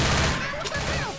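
Gunfire in the video game Left 4 Dead, a quick burst of rapid shots loud against busy game noise, brief and close.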